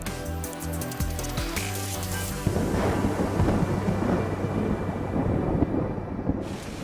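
Heavy rain pours steadily in a rainforest as a dense, loud hiss, following a rumble of thunder at the start, with no one speaking.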